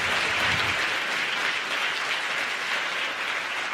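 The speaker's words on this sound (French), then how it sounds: "j'aimerais qu'on fasse un tonnerre d'applaudissements pour Nathalie Oziol qui vient de faire l'introduction" A crowd at a France insoumise political rally in Montpellier bursts into loud, sustained applause, a dense continuous roar of many hands clapping at close range for several seconds.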